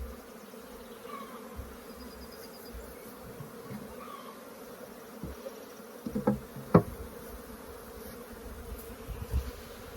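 Honey bees hum around an open hive in a steady, low, continuous drone, with a few faint knocks and taps from handling the equipment nearby.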